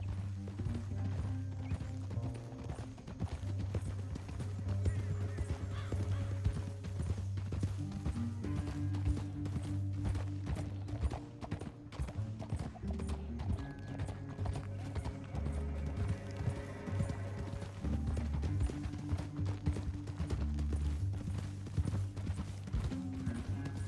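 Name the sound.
horse hooves galloping, from a video game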